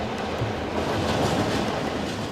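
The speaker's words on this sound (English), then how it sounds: "The train entered the yard on the lower line and then reversed up the upper line, manoeuvring round the corner." A train manoeuvres through a Mumbai railway yard, reversing onto an upper line around a corner, with a continuous rumble of wheels and carriages that stays even and moderately loud throughout.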